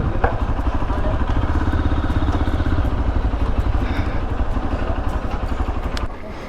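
A Hero Xpulse 4V motorcycle idles up close with a steady, thumping mid-pitched engine pulse and some mechanical clatter, easing slightly near the end; a voice speaks briefly over it.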